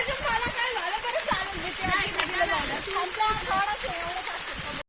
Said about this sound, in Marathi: असं इकडं पाणी छोटा धबधबा आहे